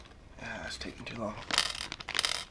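Small metal parts for a Mossberg TacStar side saddle tumble out of a package, giving a few light metallic clinks and jingles at close range, with someone talking alongside.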